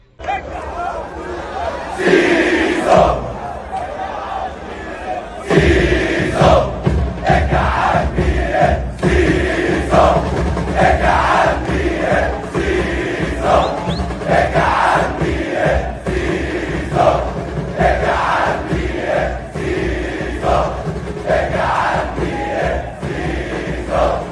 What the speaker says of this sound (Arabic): تعال نسمع جماهير الزمالك عملت ايه مع زيزو امبارح